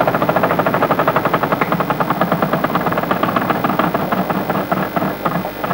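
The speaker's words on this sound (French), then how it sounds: "Et c'est vous Philippe qui lancez la roue. Allons-y" A prize wheel on a 1996 French Wheel of Fortune television game show spins with a rapid, steady stream of loud ratcheting clicks that continues throughout, with no voices over it.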